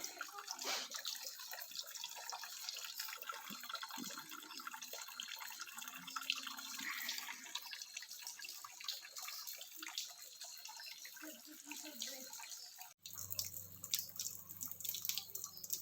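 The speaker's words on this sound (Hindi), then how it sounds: "ये पानी ऊपर से बहता हुआ धीरे धीरे यहाँ से आते हुए इस जगह पे यहाँ पर इकट्ठा हो जाता है" Thin river water trickling down and pooling beside a hillside temple, a soft continuous drip and flow with faint background hum, changing abruptly near the end to a different steady watery tone.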